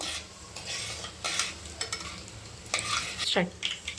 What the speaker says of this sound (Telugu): కొంచెం తాలింపు గింజలు ఫ్రై చేద్దాము, వేగనిద్దాము.